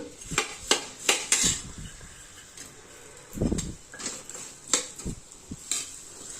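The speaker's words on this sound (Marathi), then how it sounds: "आणि लगेच टाकून घ्यायचं आहे आपल्याला 1 वाटी गूळ" A bowl of chopped jaggery goes into a pan of poppy seeds on a medium gas flame. Close metallic clinks and knocks of a spoon against cookware come in an irregular series, with a duller thud near the middle.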